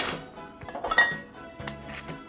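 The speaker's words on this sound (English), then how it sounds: "Got a saute pan. I'll put it on like medium heat." A saute pan is set down on a stovetop with a few metallic clinks and clanks, close and fairly quiet.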